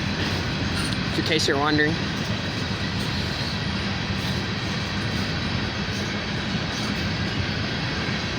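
Union Pacific #7511, an empty coal train, starts up with a steady low rumble of locomotives and rolling cars. A horn sounds briefly near the start, and someone speaks over the noise.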